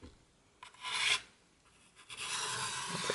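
Pencil shading on paper while darkening the underside of a drawn form, heard as soft close rasping scratches in two bursts, one short and one longer and steadier, with no talking.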